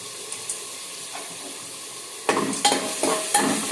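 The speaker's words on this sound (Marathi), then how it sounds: "शेंगदाणे पण टाकत आहे।" Peanuts tossed into a hot frying pan and stirred, giving soft sizzling with a few light clinks, then sharper scraping and rattling stirs near the end, close and moderately quiet with no talk.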